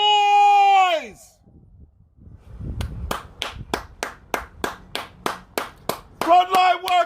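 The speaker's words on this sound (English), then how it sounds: "would you clap your hands, honk your horns, shout, make some noise" People clap their hands in a steady run of about a dozen sharp claps, heard near and fairly loud, with horn-like tonal honks at the start and again at the end.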